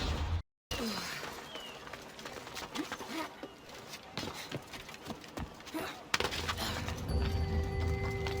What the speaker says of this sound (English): That's a nice horse, Socrates.